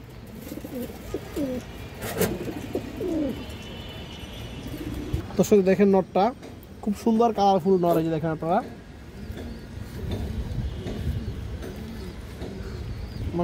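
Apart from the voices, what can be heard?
pigeons cooing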